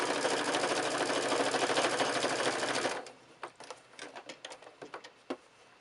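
A sewing machine runs a fast, loud continuous stitch for about three seconds while black thread binding is sewn along the edge of a quilted oven glove, then stops, leaving scattered clicks and handling taps.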